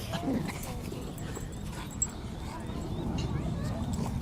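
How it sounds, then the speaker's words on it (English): A dog gives soft yips and whimpers, close but partly buried under ongoing human talk, with occasional brief louder yelps. "Missouri, are you a good dog?"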